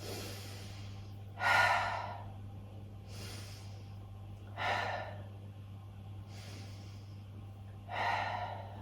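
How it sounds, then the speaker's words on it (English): Slow, deep yoga breaths come in a steady rhythm, three strong airy breaths about three seconds apart with softer ones between, close and clear over a low steady hum. "Holding here for 3 rounds of breath, take that breath into the left side of the body, the left ribs."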